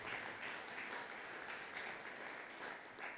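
A church congregation applauding during a Sunday praise and thanksgiving service, a steady wash of many hands clapping throughout with no break, moderately loud and even.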